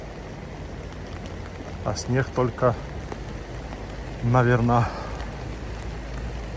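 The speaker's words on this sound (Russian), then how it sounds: "И идет дождь." Steady rain patters outdoors during a winter walk through Esto-Sadok and Rosa Khutor near Sochi, forming a constant hiss beneath someone talking in brief phrases.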